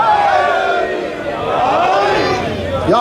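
Crowd answering a slogan during a Shia mourning procession (matami jaloos) in Ilford, London, a loud massed chorus of voices swelling together, close and continuous, with a single voice rising at the end.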